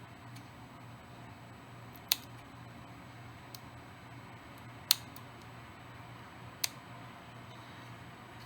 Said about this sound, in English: now I'm just going to go ahead and cut them down to the length that I want